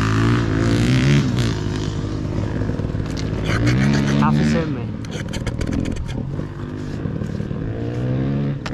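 A small enduro motorcycle engine revs and drones loudly, its pitch rising and falling, while voices talk over it.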